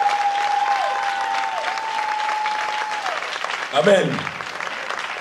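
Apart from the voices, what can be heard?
church congregation applauding to acclaim God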